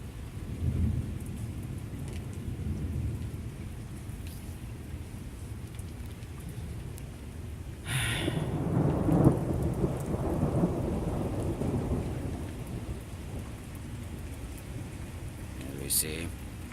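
A thunderstorm over Chicago brings steady rain hissing on surfaces and a loud crack of thunder that rolls on for several seconds, with a voice talking quietly in the background.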